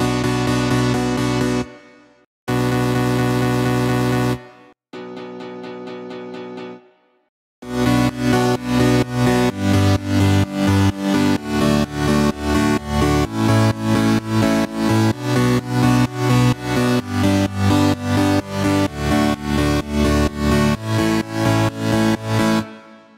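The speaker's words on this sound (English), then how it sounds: "For the chords, I used couple of synths and a piano." Progressive house chords built in FL Studio from a couple of synths and a piano, first heard as three separate sustained held chords, then layered into a full rhythmic chord progression pulsing steadily in short repeated stabs, with no talking.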